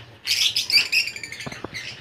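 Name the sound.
birds chirping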